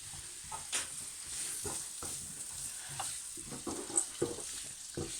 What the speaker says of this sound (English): in go the onions